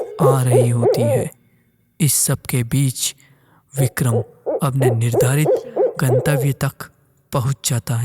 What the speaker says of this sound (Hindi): सन्नाटे को चीरते हुए उल्लू की आवाज